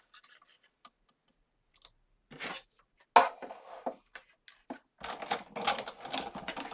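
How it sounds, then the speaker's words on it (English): A die cutting machine feeds an inked die and cardstock through, giving sparse scattered clicks and short rubbing, crunching bursts followed by a denser grinding rattle near the end, fairly quiet and close. "place it down onto my cardstock and run it through my die cutting machine in exactly the same way again"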